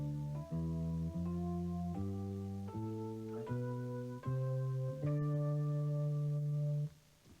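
A single melodic line of sustained tones steps upward through the D Dorian scale note by note, each held about half a second, with the last note ringing longer before cutting off.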